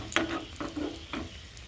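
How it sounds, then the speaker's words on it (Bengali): Egg chop cutlets fry in oil while being turned, a soft sizzle broken by three brief scraping stirs of a utensil against the pan. "এই যে দেখুন বন্ধুরা কত সুন্দরভাবে ভাজাটা হয়েছে আমি ঘুরিয়ে ঘুরিয়ে ভেজে নিলাম"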